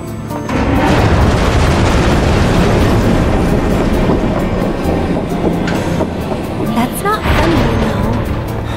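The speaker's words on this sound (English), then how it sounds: "We'll be stopping at the Sector 7 Slums and is bound for the train graveyard. The train is gone clear of the closing doors." A train departing in the video game Final Fantasy VII Remake, a loud rumbling roll with rhythmic clatter and metallic squeals building after a quiet start and continuing steadily.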